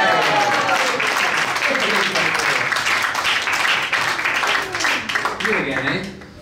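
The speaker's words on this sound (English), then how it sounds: "You better get ready to applaud." An audience bursts into loud, sustained applause after a close-up magic trick, dense clapping filling the room and tapering near the end, with voices and cheers mixed in.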